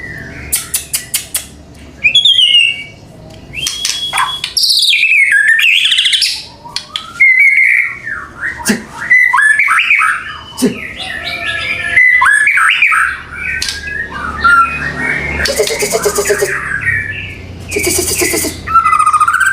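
A small kerodong songbird sings loudly and close by, with a lively run of whistles, trills and sharp chirps that vary constantly, alone with no talking.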